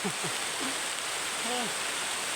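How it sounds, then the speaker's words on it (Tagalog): Heavy rain roars in a steady, close wash of noise, with voices speaking briefly over it. "Lakasan ng ulan, no?"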